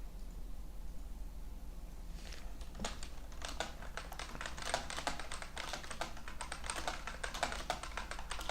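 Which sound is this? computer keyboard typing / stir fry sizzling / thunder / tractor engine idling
computer keyboard typing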